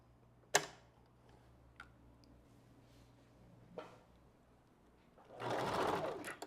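A sewing machine stitches a track onto a wig closure, giving a short, soft whirring run near the end after a few scattered clicks in a quiet room.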